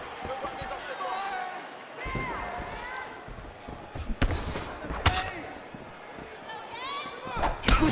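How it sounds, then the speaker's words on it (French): Punches landing in a UFC 4 fight video game: several sharp thuds and slaps at irregular intervals, mixed with game crowd noise and talk throughout. "Coup de poing."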